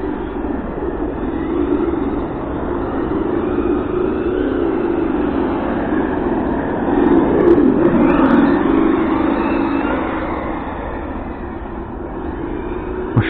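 A Hobao Hyper GT-B 6S RC car with a Mamba Monster X and a sound module drifts: a steady synthetic engine drone that swells as it revs mid-run, then settles, heard nearby without speech.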